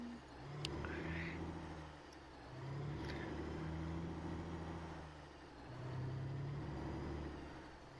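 A truck driving along an Alaskan road, its engine a steady low drone that swells and eases in slow waves, with road rumble throughout and no voices.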